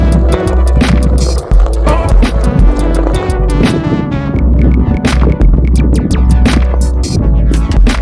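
Steady loud rolling rumble and motor hum of a 750W Onewheel Pint X electric board riding off-road over rough ground, with bumps and rattles throughout.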